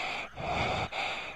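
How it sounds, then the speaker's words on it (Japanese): Heavy, ragged breathing from a character in the horror video game Kyouai Capriccio: close, breathy exhalations running almost continuously, with two brief pauses between breaths. "めっちゃ息遣い荒いけど。"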